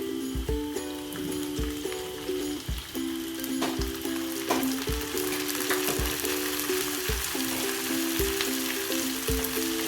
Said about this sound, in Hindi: ये हमारे प्याज हमारे अच्छे से गल गए हैं, अब हम इसमें टमाटर डाल देंगे।